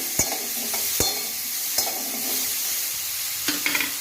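Ground masala paste for restaurant-style matar paneer roasting on a high gas flame, a steady close sizzle broken by several sharp spoon stirs and taps against the pan.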